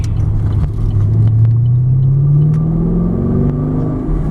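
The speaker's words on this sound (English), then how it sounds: "exhaust note. It just sounds so beefy." A 2010 Chevrolet Camaro SS's 6.2-litre LS3 V8 exhaust drones continuously, deep, beefy and loud, its pitch rising gradually as the engine revs up, heard from inside the car.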